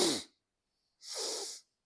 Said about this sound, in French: Quand vous reniflez, il faut faire un petit peu de bruit.